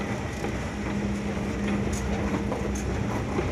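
A mall escalator rumbles continuously like a train crossing a bridge, a steady low mechanical drone with faint clanks and squeaks over busy indoor background noise.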